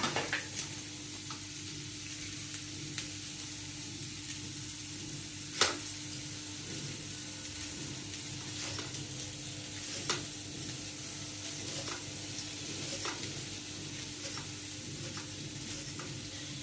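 Onion fries in a pan while beetroot rice is being made, a steady soft sizzle with scattered pops and a few sharper clicks of stirring utensils. The sound is moderately quiet and continuous throughout.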